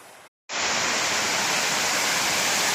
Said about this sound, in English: first we're going to scramble up that Ghyll waterfall